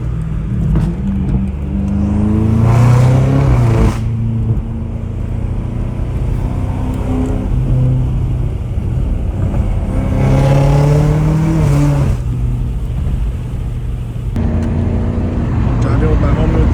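A straight-piped BMW M5 Competition drones loudly while driving, its harsh exhaust note swelling and easing in a couple of long revving surges, with someone talking over it throughout.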